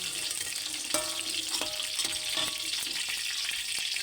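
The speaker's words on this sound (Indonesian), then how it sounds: "Iki lomboke wis tak goreng guys." Chilies sizzle steadily in oil in a frying pan, a close, continuous crackling hiss broken by a few metallic clinks of a utensil against the pan.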